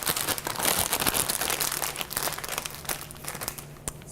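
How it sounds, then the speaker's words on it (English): Plastic piping bag crinkling as it is filled with empanada filling, a dense run of close, crackly rustles continuing throughout without pause. "we're going to put this into our piping bag and we're going to pipe it"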